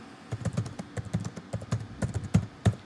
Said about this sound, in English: You can type in any question you want.